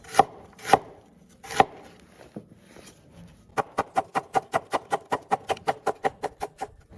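A knife chops aromatics on a cutting board for braised lion's head meatballs: three slow, separate thuds, then a quick, steady run of about seventeen crisp chops, close and clear with no talking.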